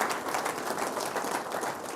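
An audience claps for a university during a presidential address in Zambia, a steady, fairly faint wash of applause lasting a couple of seconds.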